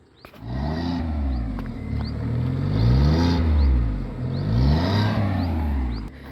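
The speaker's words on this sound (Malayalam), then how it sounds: "ഇതാണ് ഈ ഒരു വാഹനത്തിന് എഞ്ചിൻ നോട്ട് വരുന്നത്." The 1-litre engine of a 2024 Maruti Suzuki Celerio ZXI is revved repeatedly from idle. The pitch rises and falls in about three smooth swells, loud and close, with no talking.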